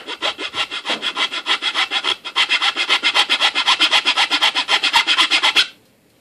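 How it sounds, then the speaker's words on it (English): A round file cuts a groove into a bamboo horse bow with steady, rhythmic rasping strokes, close and loud. The regular back-and-forth scraping pauses once briefly, then stops abruptly. "take a round file and file in a groove just barely under the surface"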